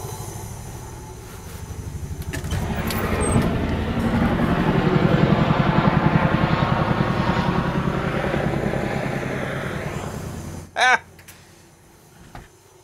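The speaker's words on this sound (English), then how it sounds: "That was a Chinook going by." A Chinook twin-rotor helicopter passes overhead, its heavy rhythmic thumping swelling to a loud peak then fading away, followed by a brief clatter.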